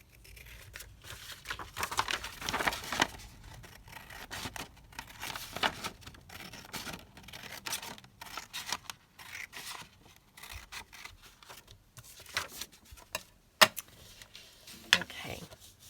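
Scissors snip through paper for a junk journal, quiet intermittent cuts mixed with soft paper rustling and crinkling, close by and irregular in rhythm.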